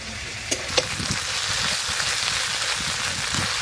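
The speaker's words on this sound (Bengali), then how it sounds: "এখন আলু ভাজা হলো" Potatoes and spices fry in hot oil, a steady close sizzle with a couple of sharp pops near the start.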